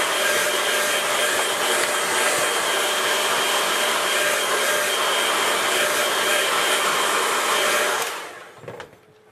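A hair dryer blowing on a watercolor landscape painting, a loud steady whooshing whir held for about eight seconds before it cuts off, followed by a few faint handling knocks.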